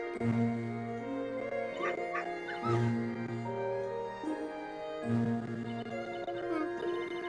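Small puppy yips and bow-wow barks from the video game Professor Layton vs. Phoenix Wright, short cartoonish bursts repeating over a looping musical game score.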